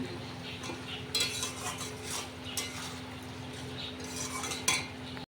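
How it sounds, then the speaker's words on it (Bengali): Spice paste is poured into a pot of khichuri and stirred by hand, making soft, repeated scraping and clinking against the pot over a low steady hum. The stirring stays fairly quiet throughout and comes in loose, uneven strokes. "মশলাটা দিয়ে দিলাম এর মধ্যে ঢেলে এক হাত দিয়ে করছি"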